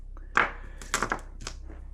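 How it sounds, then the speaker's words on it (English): Dice clatter onto a tabletop during a card game session, a few sharp irregular knocks and rattles as they tumble and settle, close and distinct. "we can just roll a dice instead of me shuffling"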